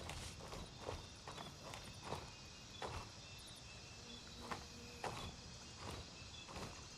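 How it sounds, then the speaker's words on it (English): Footsteps in a first-person shooter, a steady series of soft thumps every half second or so, moderately close, over a constant hissing background drone. "I hear footsteps."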